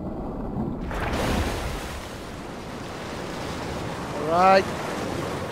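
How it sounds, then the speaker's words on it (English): Waterfalls flowing backwards in the video game Anthem give a constant broad rushing roar, swelling slightly early on, while a voice briefly speaks near the end. "Look at the waterfalls. They're going backwards."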